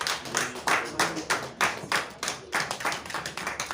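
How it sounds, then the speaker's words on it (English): Audience at a civil society partnership event in Lagos clapping for themselves, a lively burst of hand claps with uneven rhythm that swells and fades, fairly close and without talk. "can we all clap for ourselves?"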